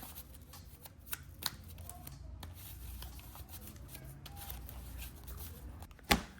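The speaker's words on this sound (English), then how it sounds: "Let me shuffle the deck up." A deck of trading cards is shuffled by hand during a card game, giving a soft, steady riffle and rubbing with a few sharper snaps, close and quiet, with no talk.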